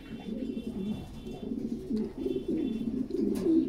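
A female yellow Lahori pigeon coos in a close, low, throaty series of rolling calls that repeat in quick succession over quiet background.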